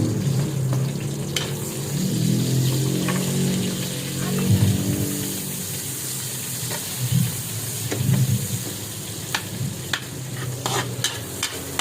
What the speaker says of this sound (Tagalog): Lagyan natin ang sibuyas.